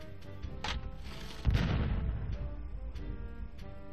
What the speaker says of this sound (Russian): выстрел с крейсера «Аврора» возвестил о начале Великой Октябрьской революции